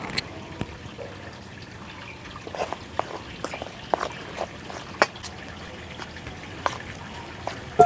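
Boiling hot water is poured little by little into dough for Bengali rasmalai pitha, giving soft trickles and scattered small splashes and drips against a quiet kitchen background.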